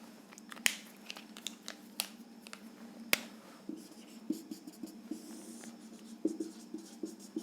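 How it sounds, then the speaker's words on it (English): A beam diagram being drawn on a board for an engineering lecture: a quiet run of scratchy strokes and sharp taps as the marker or chalk meets the surface, irregular and close, with no talk. "now let us draw the beam again over here."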